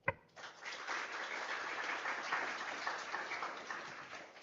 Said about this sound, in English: please help me give a round of applause to our three panelists, Ben, Mabu, and Ed